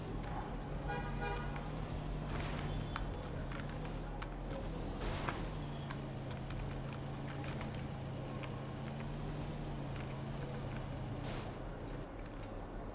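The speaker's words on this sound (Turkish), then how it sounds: "Bu arabanın sesine hastayım ya." A steady car engine drone in PUBG Mobile on the Miramar desert map runs throughout, with occasional horn-like toots and brief bursts of game noise over it.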